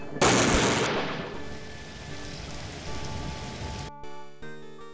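Rain in a Discworld video game falls as a steady hiss and patter that starts with a loud burst and fades, then cuts to a quieter tonal game sound.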